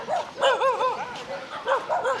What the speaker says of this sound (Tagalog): Ang dami palang aso dito.